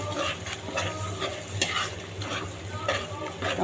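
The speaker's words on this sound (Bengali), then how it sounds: "মশলাটা আমি ভালো করে কষে তারপর মাংসটা দেবো" Ground spice paste of ginger, garlic, cumin and nut pastes fried in a pan for a meat curry, close sizzling under rhythmic scraping strokes of a spoon stirring every half second or so.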